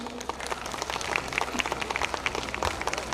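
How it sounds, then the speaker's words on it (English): Audience applause and clapping at a school annual function as cadets are called up, individual claps audible within a steady crowd patter, with a low background hum and some murmur. "Keep clapping."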